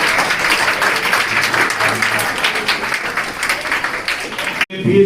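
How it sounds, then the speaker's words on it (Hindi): Loud, sustained applause from an audience welcoming guests at a school computer inauguration event, dense clapping filling the whole stretch before cutting off abruptly near the end. "अभी जोरदार तालियों से इनका इस्तकबाल करें"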